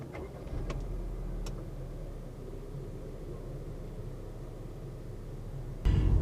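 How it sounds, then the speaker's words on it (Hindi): Low idle rumble of a 2022 Honda Civic Oriel engine running steadily after startup, quiet and even, with a sharp louder thump right at the end. "ये इस गाड़ी का स्टार्टअप।"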